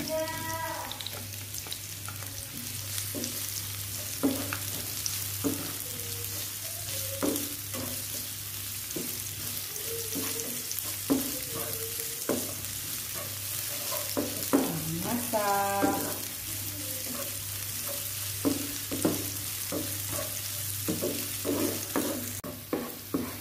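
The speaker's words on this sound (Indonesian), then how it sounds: "kalau sudah layu kita masukkan bawang putih dan bawang bombay" Garlic and onion fry in a pan with earlier-softened shallots for a Balinese rice-noodle and smoked-pork dish, a constant close sizzle broken by frequent scraping stirs and clinks of a spatula against the pan.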